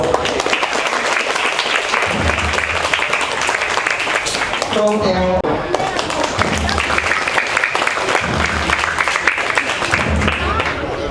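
An audience applauds at a school awards and closing ceremony for Khmer-language pupils at a temple, clapping steadily and densely for several seconds while an amplified voice briefly speaks over it partway through.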